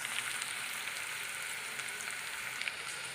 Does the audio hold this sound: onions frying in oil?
yes